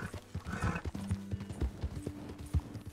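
Horse hooves clip-clop at a steady walking rhythm in the video game Red Dead Redemption 2, close and distinct, with a brief neigh and some background tones.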